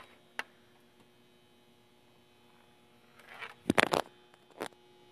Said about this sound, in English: Headphones just hit the floor.